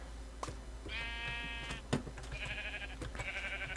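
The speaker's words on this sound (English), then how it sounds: "Lots of sheep." Sheep in the video game Minecraft give three drawn-out, wavering bleats in succession, fairly quiet over a low background hum with a few soft clicks.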